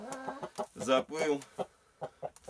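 A sick hen clucks in short, irregular bursts close by, with a brief spoken word mixed in.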